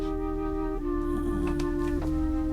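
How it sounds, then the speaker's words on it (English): Double-tracked flutes run through a SansAmp, playing separate harmony parts spread in stereo, with steady sustained tones and a couple of note changes, alone and fairly loud. "I just double track the flutes so that they have that stereo thing"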